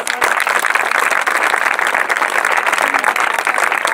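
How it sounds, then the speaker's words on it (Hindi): Loud, sustained applause from a large crowd at a gathering on national unity and communal harmony, dense steady clapping filling the whole stretch without pause. "बहुत जोर से एक बार तालियों से"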